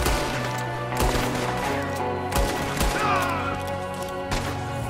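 Gunfire from the Red Dead Redemption 2 video game, scattered shots and crashes over a busy mix of game music and effects, fairly loud but cluttered.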